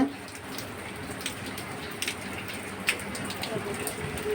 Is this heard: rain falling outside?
yes